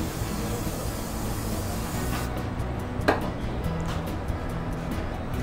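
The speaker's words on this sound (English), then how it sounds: "Use pan spray." Cooking spray is misted onto a pan before grilled cheese on wheat bread flats goes in. A brief soft hiss sits under ongoing kitchen rumble and noise.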